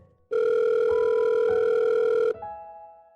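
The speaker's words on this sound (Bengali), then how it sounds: "তাই তিনি তিস্তাকে ফোন করলেন" A telephone rings on the line during a call, one steady electronic tone lasting about two seconds, loud and clear with no voices over it.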